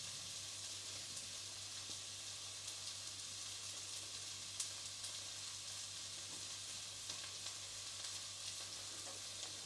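Courgettes, mushrooms and spring greens or cabbage sizzle steadily in a hot pan as they are stir-fried, a constant close frying hiss with faint scraping while being moved around.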